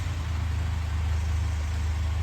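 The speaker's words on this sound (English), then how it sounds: "Idling like a kitten, no problem." Mercedes Sprinter VS30 diesel engine idling just after a fuel filter replacement, a steady low rumble that stays smooth and even throughout, close and alone with no talk.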